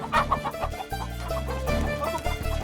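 A chicken clucking in a Tenali Rama TV comedy episode, several loud, close clucks over a sustained music bed.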